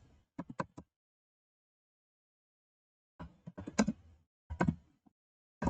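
Bursts of computer keyboard typing while code is entered, a quick cluster of keystrokes, a long pause, then two denser runs of clacking keys, close and fairly quiet.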